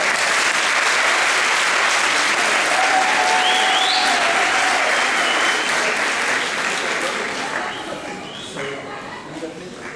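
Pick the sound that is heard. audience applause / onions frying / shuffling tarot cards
audience applause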